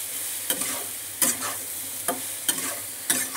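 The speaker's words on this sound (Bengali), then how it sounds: "সয়াবিন, আলু, পেঁয়াজ সব একসঙ্গে কষিয়ে নিচ্ছি।" Soybean chunks, potato and onion are stir-fried with garam masala in a pan, with a steady sizzle and periodic scraping strokes of a spatula roughly every second.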